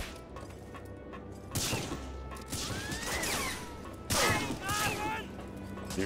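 Bursts of gunfire and crashing impacts from the Medal of Honor: Frontline video game erupt in clusters over a noisy battle backdrop, with a voice talking in places.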